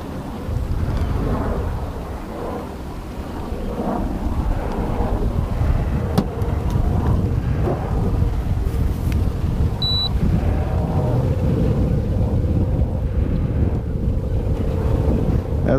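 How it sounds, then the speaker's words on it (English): Wind buffets a drifting fishing boat on open water, a steady loud rumble of gusts across the microphone that continues unbroken throughout with no clear speech. "As the wind blows us around here, Jeremy is making small adjustments to keep"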